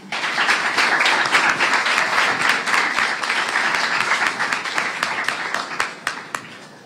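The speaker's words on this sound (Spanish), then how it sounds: "Lo recibimos con un caluroso aplauso." Warm applause welcomes a speaker at a Spanish Language Day celebration in Honduras, with many hands clapping loudly at first, then thinning out into scattered claps toward the end.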